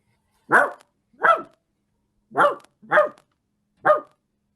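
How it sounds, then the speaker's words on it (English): Dogs bark in five sharp, separate bursts spread at uneven intervals over a few seconds, close and fairly loud, with silence in between and no talking. "Whose dogs are barking?"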